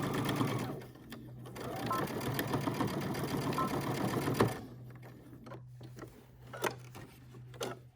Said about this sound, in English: Then all I have to do is stitch the bottom of the mask.